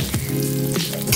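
An egg frying in oil in a kadhai, a loud close dense sizzle with bubbling crackle and a low steady hum underneath, brief and without speech.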